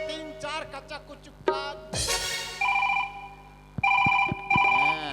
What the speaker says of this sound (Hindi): अरे तो फिर उसे तुरंत फोन लगाओ रे